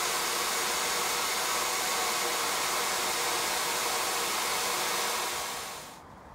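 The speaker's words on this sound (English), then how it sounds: "I'm going to use a hairdryer to heat up the pipe" A hair dryer heating a seized pipe on an old British Anzani outboard motor blows with a loud, steady, broadband whoosh for several seconds, then cuts off abruptly.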